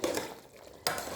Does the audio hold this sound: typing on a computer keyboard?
no